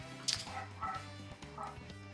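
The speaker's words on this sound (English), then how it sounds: "I hear my other dog starting to bark" A pet dog yips and bow-wows in the background of a home streaming room: a few short barks at intervals, mostly faint and distant, over a steady low electrical hum.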